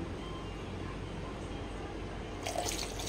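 Water running steadily to rinse out a mixer jar while making a two-mango sherbet, a continuous close wash of flowing water that brightens near the end.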